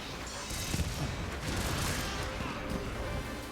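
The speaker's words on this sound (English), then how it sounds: "the fireworks still went off" Palico fireworks attack bursting during a Monster Hunter Rise hunt, a steady run of loud crackling blasts and booms layered with game effects for a few seconds.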